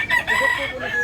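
A rooster crowing at close range, a single loud drawn-out call in the open air of Consolacion, Cebu.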